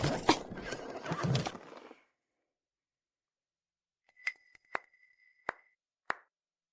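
A horse whinnies loudly and close at the start, then after a silent gap come a few sharp, separate clinks or hoof-like knocks.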